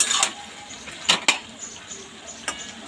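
Bottle gourd for a Bengali lau muri ghonto stirred in a cooking pot on a gas stove: a few quick scraping clinks from the spoon against the pot, close and brief, with no speech.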